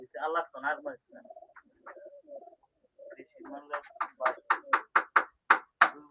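Pigeons kept by a hobbyist pigeon fancier coo in a steady run of rhythmic repeated calls that build near the end, preceded by someone talking close by.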